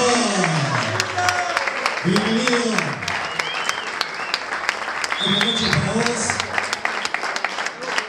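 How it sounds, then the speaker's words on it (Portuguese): Crowd applause greeting a birthday surprise on a Spanish-language stage show, sustained clapping running throughout while a host speaks loudly over it, with a few cheers mixed in. "Un fuerte aplauso, por favor."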